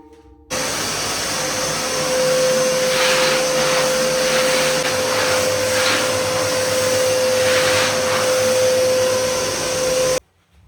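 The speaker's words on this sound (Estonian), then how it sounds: "Anda tolmuimejega puhtaks." A vacuum cleaner runs steadily in a bathroom under renovation, a loud, close, continuous motor whine with a constant tone and breathy suction surges, switching on and then off about ten seconds later.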